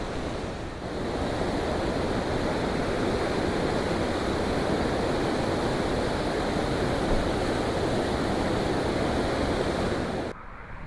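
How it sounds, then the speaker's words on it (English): Waterfall at Bad Little Falls Park, a steady, loud broadband rush of falling water that holds nearly unbroken for about ten seconds before cutting off abruptly near the end, with no talking. "there is a waterfall down here."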